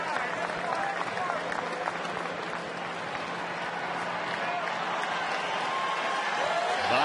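A baseball stadium crowd in Detroit cheers and applauds throughout, a dense, steady roar at a distance, with a play-by-play announcer talking over it.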